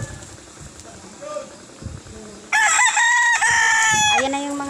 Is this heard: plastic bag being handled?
no